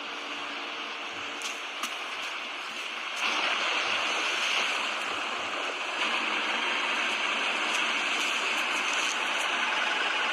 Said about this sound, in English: no other factory in the world mixes its chocolate by waterfall